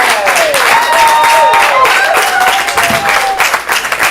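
Audience applause at a ComedySportz improv comedy show, a close, loud burst of clapping with whoops and whistles that carries on steadily before thinning toward the end.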